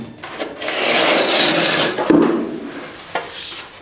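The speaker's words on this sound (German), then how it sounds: "Deswegen schneide ich jetzt hier von der Schnittseite." Plasterboard being cut from the cut side during a drywall ceiling install, a steady close scraping rasp running for several seconds with a few sharper scuffs and clicks partway through.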